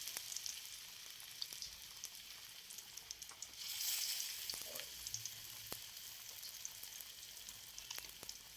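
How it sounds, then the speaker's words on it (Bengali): Beetroot and carrot fritters frying in oil in a Bengali home kitchen, a faint, even crackling sizzle throughout with occasional small pops and a brief louder surge midway. "এরপর আমি বড়াটা বসিয়ে দিচ্ছি।"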